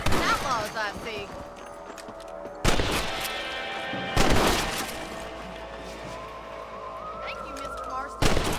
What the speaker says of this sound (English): Better at shooting rabbits than outlaws, I see.